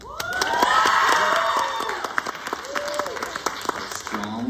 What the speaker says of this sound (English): Strong cheering section there